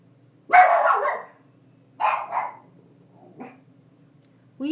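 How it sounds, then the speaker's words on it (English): A dog barks in short bursts, a couple of sharp barks followed by smaller yips, close by with quiet pauses between. "Will you guys quit barking?"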